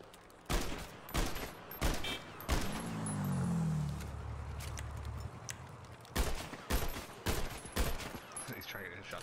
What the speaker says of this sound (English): we're gonna go ahead and grab all weapons. That's the sound pack for the guns.